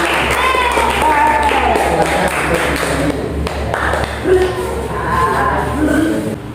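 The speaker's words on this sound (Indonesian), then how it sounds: "tepuk tangan untuk teman-teman kalian" Sixth-grade children in an elementary school math class clap for classmates who won a quiz, with scattered claps under excited children's voices and chatter throughout.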